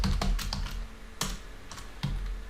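Computer keyboard keys clattering in quick irregular bursts of close, crisp clicks while HTML code is typed, with brief pauses between bursts and no talking.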